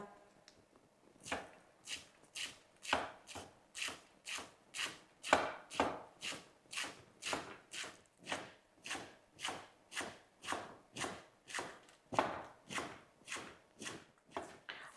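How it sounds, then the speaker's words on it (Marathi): Fresh spinach leaves being finely chopped into small squares with a knife on a board, a steady quick rhythm of crisp, close knife strikes repeating about twice a second, with no talking over them. "पालक चिरताना सगळ्यात महत्त्वाचं म्हणजे आपल्याला असा उभा पातळ पालक चिरायचा नाही आहे आपल्याला बारीक चौकोनी चिरून घ्यायचं आहे"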